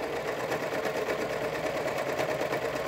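A serger runs continuously while stitching the edge of a homemade fabric face mask, a fast, even mechanical whir and rattle at steady speed, close up and without speech.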